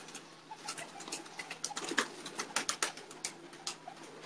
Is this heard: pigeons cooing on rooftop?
yes